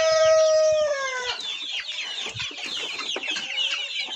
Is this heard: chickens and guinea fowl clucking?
yes